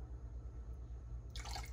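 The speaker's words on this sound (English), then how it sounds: "I'm gonna add a little splash of vanilla," A small splash of vanilla extract pours into a milk and yogurt mixture for strawberry cream paletas, a brief liquid trickle near the end over a low steady hum, fairly faint and close.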